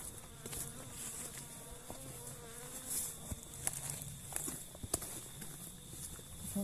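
Bees buzzing around a beehive as it is carried on an early spring homestead, a faint continuous insect drone with scattered clicks and footsteps nearby, no talking.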